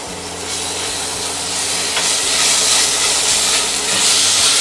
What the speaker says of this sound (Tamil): கொஞ்சம் நல்லா செவக்க வதக்கி விட்டுக்கோங்க